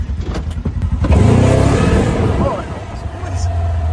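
A Polaris RZR side-by-side engine revs up loud and close, then holds a rough droning roar as it pulls away, with voices talking over it.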